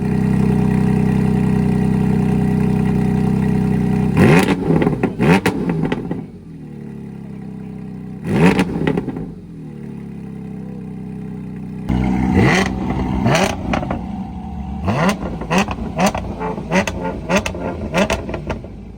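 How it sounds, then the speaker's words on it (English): Porsche GT4RS with Valvetronic catback exhaust compared against Fabspeed over-axle pipes, giving several sharp revs and blips from a steady idle, loud and close, with a quiet lull between bursts. "Here's a comparison between a car running over-axle pipes from Fabspeed and the Valvetronic exhaust to illustrate this difference in tone."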